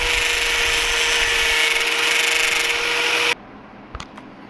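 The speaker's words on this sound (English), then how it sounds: "So, for this thing to open, I'm gonna need to grind it from basically here" A power grinder cuts hard and loud along the edge of a battery door for about three seconds, then stops abruptly, leaving quiet with a couple of small knocks.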